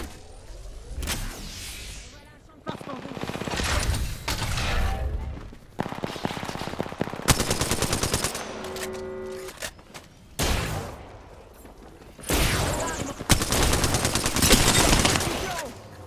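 Bursts of automatic gunfire and single shots crack through a round of the video game Apex Legends, loud and irregular with short pauses between volleys, with a player's voice occasionally over the action.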